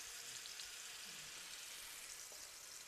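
Salmon frying in hot oil, a steady, even sizzle and crackle that holds at one level throughout, fairly close, with no voices.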